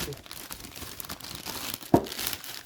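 A parcel is roughly torn and crumpled open during an unboxing. The paper and plastic crinkle steadily, with one sharp ripping burst partway through, and a voice talks faintly in the background.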